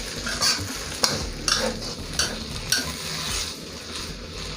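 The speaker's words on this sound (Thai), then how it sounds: "แล้วก็ผัดให้เข้ากัน" Pad see ew noodles stir-fried in a pan, a spatula scraping and clanking against the metal in irregular strokes over a soft steady sizzle, close and clear.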